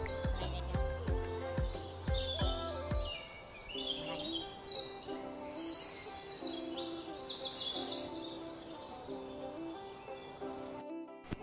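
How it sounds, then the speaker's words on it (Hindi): Birds swimming on a dam lake near Ramnagar, Uttarakhand, calling with bright chirps and tweets at moderate distance, a busy burst of calls in the middle over soft outdoor ambience. "गाइस हमें बीच रास्ते में देखे चिड़ियाँ मिली तैरते हुए"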